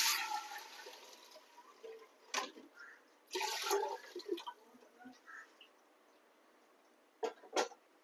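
Water is poured from a glass into a cooking pot for ghee rice in a few short, faint splashing bursts separated by quiet pauses.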